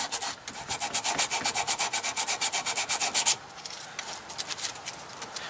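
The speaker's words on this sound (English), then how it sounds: "So take some sandpaper or something to scratch it up." Sandpaper scratches a piece of scrap aluminum in quick, close, rhythmic rubbing strokes, louder and grittier at first, then lighter and softer for the final seconds.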